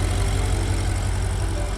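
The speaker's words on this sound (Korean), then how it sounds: "엔진 소리 붕붕붕붕 소리가 저까지 살짝 들리긴 하는데" A 2013 BMW 750Li xDrive B&O Edition engine idles with the hood open, a steady low rumble that holds evenly throughout without change.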